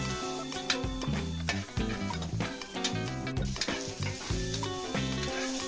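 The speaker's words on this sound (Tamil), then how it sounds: "சர்க்கரை நல்லா கரைஞ்சிருச்சு. ரவையோடு மிக்ஸ் ஆகிட்டு இருக்குது." Semolina and sugar for rava kesari are stirred in a pan with a steady sizzle, while tonal, musical sounds play loudly throughout.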